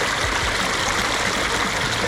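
Pond waterfall filter pouring water in a steady, close, full-bodied rush with no gaps and no voices.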